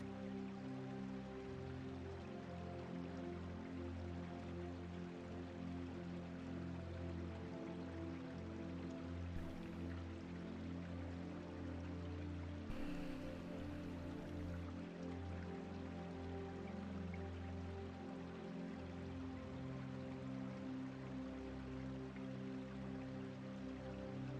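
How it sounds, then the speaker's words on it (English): Steady, faint water flowing and trickling, a continuous soft wash with no voices, heard alone throughout. "I'm just sitting here looking at this water flowing through this scene"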